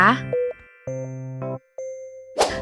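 A short electronic notification bell chime plays as a sequence of clear, steady tones, with a brief bright burst at the end and no talking.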